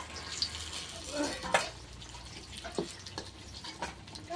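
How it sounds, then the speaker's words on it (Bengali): Eggplant slices frying in oil over medium heat make a faint, soft sizzle with sporadic pops and utensil clicks, quiet and close against a low background hum. "বেগুন ভাজা আপনারা করলে পুরো মিডিয়াম আঁচ দিয়ে ভাজবেন বেগুনগুলো ভাজা ভালো হবে"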